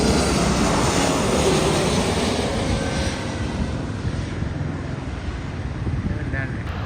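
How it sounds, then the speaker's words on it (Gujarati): A fixed-wing airplane passes overhead, a loud broadband engine roar that slowly fades over several seconds, mixed with wind buffeting on the microphone outdoors near a railway track. "વિમાન એક આવેલું છે"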